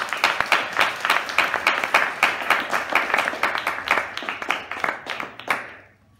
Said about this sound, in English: Somebody clap to Jesus.